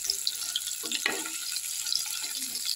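Boiled potatoes fry in a pan with a soft, continuous sizzle, and a brief stirring scrape breaks in partway through. The sound stays fairly quiet and close.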